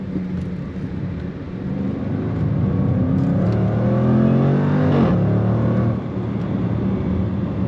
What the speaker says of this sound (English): And all you're hearing is exhaust.